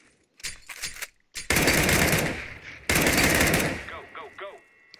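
Rapid gunfire in the video game CS:GO during a training course: a few short bursts, then two long loud stretches of shots with ringing casings and echoes trailing away at the end.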